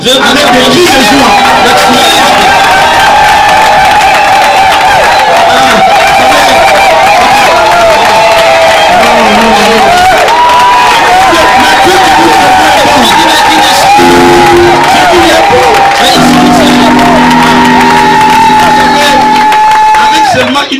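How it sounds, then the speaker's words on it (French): A church congregation cheers, whoops and shouts for joy, a loud dense crowd roar that carries on without a break and is mixed with raised voices. "je veux que tu acclames avec des cris de joie"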